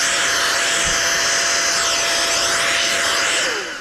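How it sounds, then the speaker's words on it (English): A NovSight G5 jump starter's built-in air pump running on turbo, blowing a loud, steady high-pitched rush of air close up that holds evenly before tapering off at the end. "let you hear the pump, is I'm going to hit the little turbo button here"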